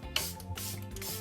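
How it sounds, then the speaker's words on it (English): Facial mist is spritzed onto a face in two or three short, soft, breathy hissing bursts against a quiet background. "Love to spray my face, spritz my face."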